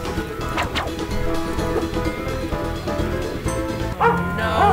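A dog barking in the Ratatouille video game, several barks among thuds and crashes, with game music and effects throughout and a loud burst near the end.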